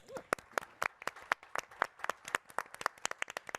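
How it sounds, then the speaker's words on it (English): Scattered applause from a conference audience at a NeoCon design presentation, a sparse patter of individual claps, some close and sharp, dying down rather than building into a roar. "One more big round of applause for the Driehaus Foundation"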